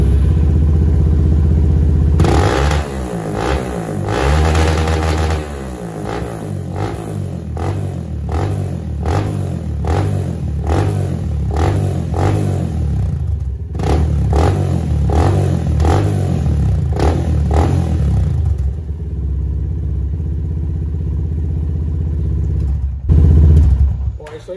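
A Yamaha Lander X motorcycle fitted with a new exhaust, running close by with repeated sharp revs and throttle blips over a steady rumbling idle, loud and punchy throughout.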